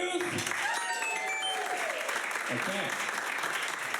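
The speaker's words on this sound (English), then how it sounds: "give a big round of applause" Enthusiastic audience applause fills the space, a dense wash of clapping and cheering with a voice or two calling out over it.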